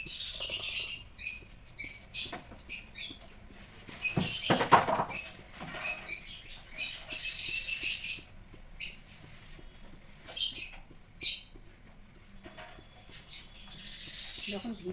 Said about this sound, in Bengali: যখন ভিডিওটা এডিট করি সেই সময় পাখির গুঞ্জন শুনতে পাই, কি ভালো লাগে ব্যাকগ্রাউন্ডে।